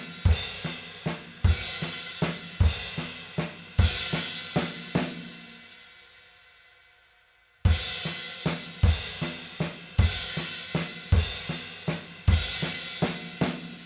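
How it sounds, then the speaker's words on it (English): Drum kit plays a loud fill pattern with crash cymbal and bass drum struck together as accents, a series of sharp crashing hits with decaying wash, a long ringing pause, then the pattern repeats. "we can do it with the crash and the bass drum at the same time."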